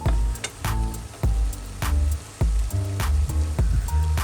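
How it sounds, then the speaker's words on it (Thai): Food frying in a pan over high heat with oyster sauce, stirred hard: loud sizzling broken by repeated rhythmic scraping strokes of a spatula, close and continuous. "คนให้เข้ากันก่อนครับ เพราะว่าไม่ให้มันไหม้ครับ เพราะผมใช้ไฟแรงครับ"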